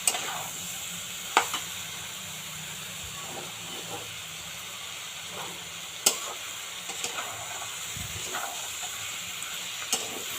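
Stirring of Malabar spinach and shrimp curry in a pan, with a faint steady sizzle broken by a few sharp scrapes and clinks of the spoon against the pan.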